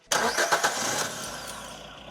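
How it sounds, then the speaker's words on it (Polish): A car engine cranks with a few rapid, uneven bursts, catches and then settles into a steady idle at close range during an alternator and battery check. "Teraz uruchomimy e, samochód."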